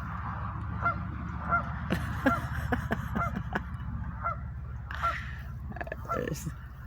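Geese gather by water outdoors and honk repeatedly and irregularly at moderate distance, with scattered clicks and a constant low background hum beneath the calls.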